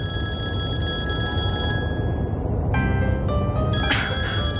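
Electronic telephone ring tones repeating in bursts over a low background hum, loud and close, with no one speaking.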